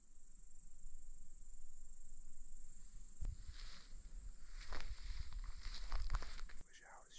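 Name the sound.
grasshoppers chirping near an oak tree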